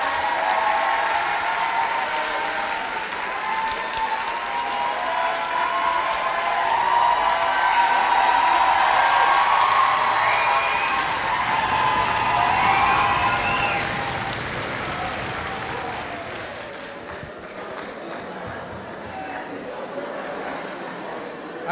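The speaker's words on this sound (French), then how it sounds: "c'est bien que vous applaudissiez parce que sa rémunération en fait dépend du nombre d'applaudissements" Sustained applause from an audience at a university social sciences graduation ceremony, steady and fairly loud for about twenty seconds before gradually thinning, with some crowd chatter and voices mixed in.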